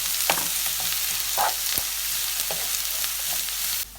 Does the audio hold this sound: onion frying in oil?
yes